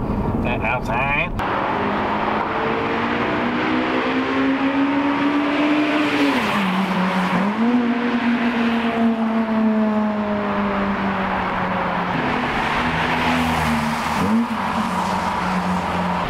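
A car fitted with a new exhaust backbox drives past outside, its engine note rising and falling steadily for about sixteen seconds at close range, with a brief clatter at the start and occasional talk over it.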